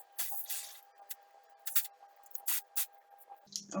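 Short hissing bursts from a hairspray can misted over the lifted under layers of a wig, several quick sprays spaced apart, close and fairly quiet, with a faint steady hum underneath and a small clatter at the end.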